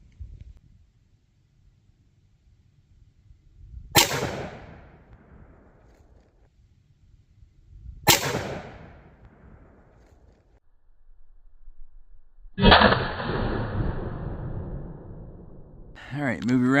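Close .357 Magnum revolver shots fired into ballistic gel: two sharp, loud single reports a few seconds apart, each with a decaying tail, followed by a longer burst of noise and further sound near the end.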